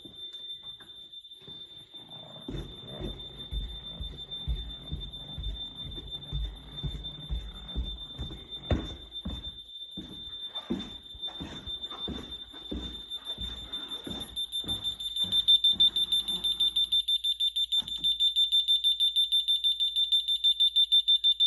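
Home alarm system and smoke detector in a house with new Berber carpet, a sharp high electronic tone sounding continuously while irregular thumps and footsteps move beneath it, then the tone turns into rapid repeated beeps toward the end.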